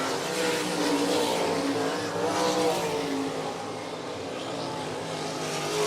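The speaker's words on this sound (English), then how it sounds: "Daniel King slings that out, slings some mud going into turn 1 and 2." A dirt track race car at 105 Speedway slides through turns one and two, slinging mud. Its engine roars loud and close, rising and easing slightly as it passes through the corner, with a continuous crowd of other engine noise behind.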